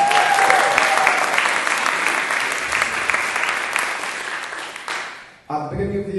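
An audience applauds and cheers loudly for a London singer at a live event, a dense continuous clapping that fades out near the end before voices and music cut in.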